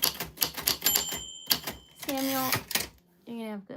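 A typewriter clacks in a quick uneven run of keystrokes close by, with a carriage-return bell ring and a voice speaking between bursts of typing.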